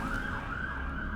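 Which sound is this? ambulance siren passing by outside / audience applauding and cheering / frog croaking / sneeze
ambulance siren passing by outside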